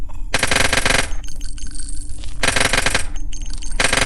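Rapid automatic gunfire in a zombie shooting video game, loud dense bursts of shots in three volleys with brief gaps between, heavy and close with no talk.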